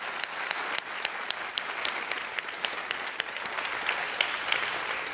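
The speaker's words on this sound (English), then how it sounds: "So it's a round of applause for Sarah." Audience round of applause at a memorial lecture, sustained clapping with sharp individual claps standing out, no talking over it.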